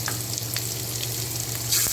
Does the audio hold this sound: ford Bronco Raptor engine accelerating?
no